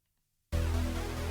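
A dry, unprocessed bass line for a drum and bass track enters abruptly after half a second of silence, then holds a steady, sustained low tone alone.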